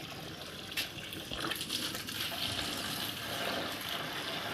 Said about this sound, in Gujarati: જો પછી તો પાણી ભરવા માંડી